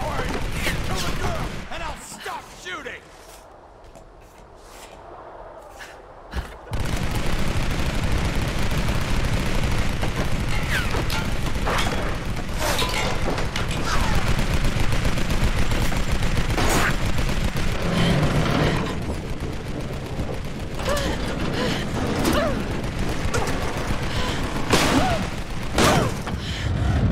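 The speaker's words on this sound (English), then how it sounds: "Stop shooting!" Sustained gunfire in the Tomb Raider video game, dense overlapping shots and bursts running almost continuously after a quieter opening, loud and close, with game sounds and occasional voices mixed in.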